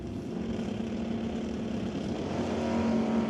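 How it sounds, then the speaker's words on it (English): Dodge drag race car at an ET series bracket race, a steady engine roar that builds slightly in loudness over a few seconds without any voice. "Oh, Warner spins the wheels."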